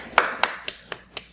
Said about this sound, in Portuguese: Salva de palmas para vocês.